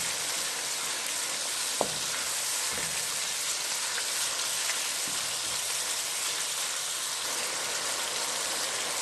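Prawn biryani masala with tomato paste and yogurt fries in a pot, giving a steady, dense sizzle with a few light stirring knocks throughout.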